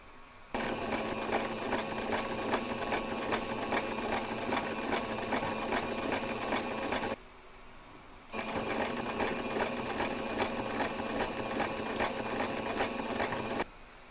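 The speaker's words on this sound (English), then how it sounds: "And we can now stitch them in place." Sewing machine stitching binding onto a fabric table runner, a fast even rattle running for several seconds, pausing briefly, then resuming at the same pace, close and clear.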